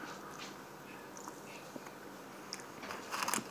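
Close, soft crunching and biting bursts of someone eating small french fries, with scattered crisp chews building toward a louder cluster at the end over a quiet room.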